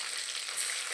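Ginger garlic paste sizzling in a pan over a low flame, a steady soft crackle and hiss with no voices.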